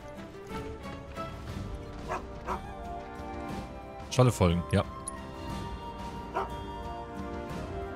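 Scholle, a dog companion in the video game Final Fantasy VII Rebirth, lets out a short cluster of loud barks in the middle, set over game music with a person talking around them.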